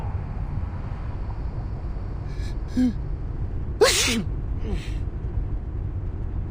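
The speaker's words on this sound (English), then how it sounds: "That's your 9th sneeze since we got here." A single sharp sneeze in a video game rings out over a steady low rumble, with a couple of faint vocal sounds around it.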